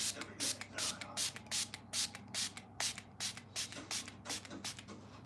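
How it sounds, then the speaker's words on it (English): Setting spray misted onto a face during a dewy, natural makeup routine: a rapid series of short hissing bursts, about a dozen in quick rhythm, close and moderately loud. "Then you spray your face."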